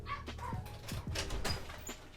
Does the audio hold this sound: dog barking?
yes